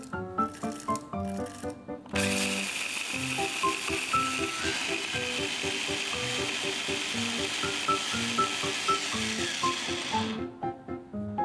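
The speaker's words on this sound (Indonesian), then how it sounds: "Kita masukkan oatmeal ke dalam blender dan blender hingga halus." A blender grinds oatmeal into fine flour, starting with a few short rattling pulses before a loud continuous whirring grind that runs for about eight seconds and then cuts off.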